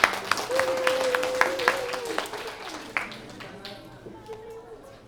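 An audience at an elementary Orff music clinic performance claps in a steady, moderate patter that gradually thins, with scattered voices and a whistle-like tone over it.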